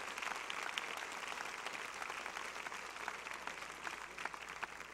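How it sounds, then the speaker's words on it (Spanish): Church congregation applauding during a service, a faint, steady patter of many hands clapping throughout, heard from a distance with no talk over it. "Dele un fuerte aplauso al Señor esta tarde."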